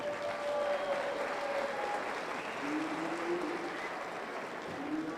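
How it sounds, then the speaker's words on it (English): An audience at a youth fair commercial heifer show applauds the exhibitors, a sustained patter of clapping from a moderate crowd that holds fairly even and somewhat distant for several seconds, with a few faint voices mixed in. "Why don't you give all these exhibitors a round of applause?"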